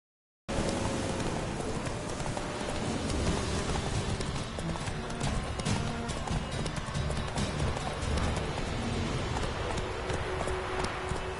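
Horse hooves gallop in a fast, continuous clip-clop in The Witcher 3: Wild Hunt, loud and steady over outdoor game ambience with a faint trace of rain.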